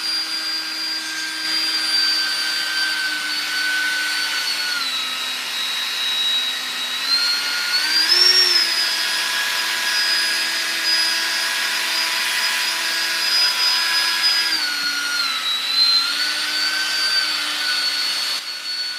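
A power drill fitted with a polishing attachment whines steadily while lifting tarnish off a wheel, a sustained high motor tone that dips and rises slightly in pitch, close and loud, with no talking.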